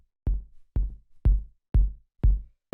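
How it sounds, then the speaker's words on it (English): Five short, deep, soft kick drum hits in a steady, evenly spaced rhythm, each with a quick punchy attack and brief decay, no other sounds. "it's just kind of like a short, deep kick"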